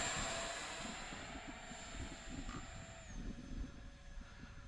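An Arrows 55 mm Viper RC model jet flies over a cow-pasture airstrip on a cold Florida day, its ducted-fan whine holding steady with a high tone that drops away near the end, fairly distant.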